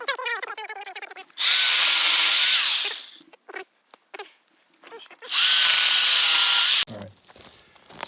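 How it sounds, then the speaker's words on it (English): A Sawzall reciprocating saw cuts through a wild boar's spine in two loud, sustained bursts of rough buzzing, with quieter handling noises and a voice in the gaps between and before them. "we're going to take a Sawzall and get this baby done the easy way"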